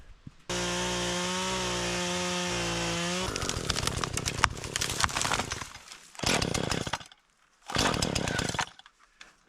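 A Husqvarna chainsaw cuts down dead standing trees outdoors, first idling with a steady drone, then revving loud and close as it bites into the wood, with a brief drop between two final bursts.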